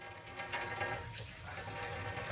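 Water runs from a simple homemade washbasin in a forest treehouse, a steady close splashing stream that continues throughout with no voices.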